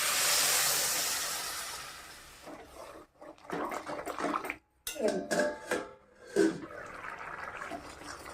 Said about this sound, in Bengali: আমি জল দিয়ে দিচ্ছি।